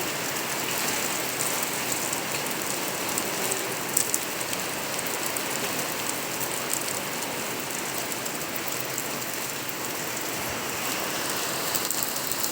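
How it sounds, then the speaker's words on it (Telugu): Heavy monsoon rain pours steadily around a flooded flat, a dense, unbroken hiss of drops drumming on surfaces, loud and close with no voices throughout. "హెవీగా ఉందండి వర్షం."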